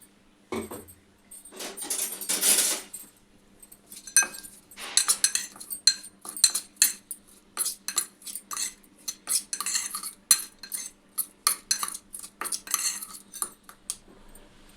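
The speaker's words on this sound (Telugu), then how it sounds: "కొంచెం కొత్తిమీర కొన్ని ఉల్లిపాయలు ఇవన్నీ ఒకసారి మిక్స్ చేయాలి" A spoon clinks and scrapes against a bowl as chopped coriander, onions and salt are mixed for a Warangal-style pachipulusu with omelette, starting with a few strokes and then settling into a quick, steady, close metallic rattle with no talking.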